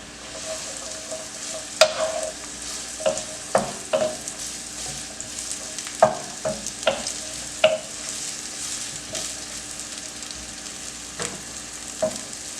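Chopped onion and jalapeno fry in canola oil with a steady close sizzle, broken by repeated sharp clacks and scrapes of a utensil stirring the pan.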